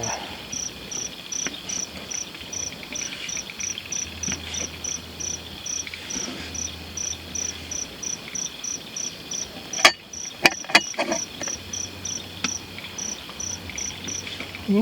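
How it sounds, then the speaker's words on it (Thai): Crickets and other insects chirp in a steady, high pulsing chorus at night on a rainy-season mountain campsite at Phu Thap Boek, with a few sharp knocks partway through. "คนภูทับเบิกนี่ก็แมง เยอะเหมือน กันนะเนี่ย"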